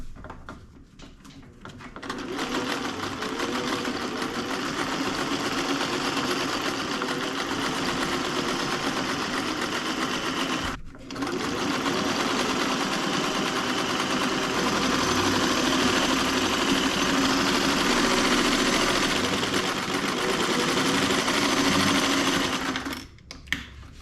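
A sewing machine stitches headliner windlace around rope cording for a 1957 Chevy interior, with a loud, steady mechanical whir running in two long bursts separated by a brief pause.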